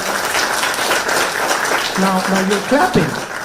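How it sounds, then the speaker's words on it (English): Audience clapping during a political speech about a slogan from a long march, steady dense applause from a large crowd, with a few short tonal sounds and voices rising near the end. "you're clapping"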